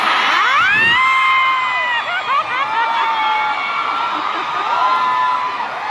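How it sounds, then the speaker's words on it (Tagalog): A large crowd of supporters at an event with Vice President Sara, shouting Duterte loudly in a sustained, overlapping roar of high voices and whoops that fills the space for several seconds. "Dahil kayo ay sumisigaw ng Duterte"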